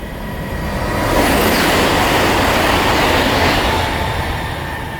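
A Great Western Railway train passes through Slough station, a loud, close rumble with rattling wheels swelling and fading over a few seconds, with no voices.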